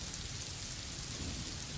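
Heavy monsoon rain pouring in Mumbai, a dense steady hiss of downpour with low rumbling beneath, continuous and fairly faint with no voices.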